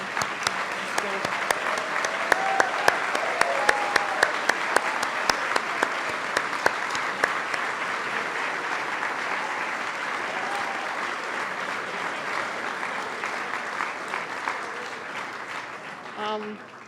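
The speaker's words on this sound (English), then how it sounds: "please rise and we can give them another round of applause" Audience at a gala applauding the Wall Street 50 honorees, a long sustained round of clapping from a large room, steady throughout and tapering slightly near the end.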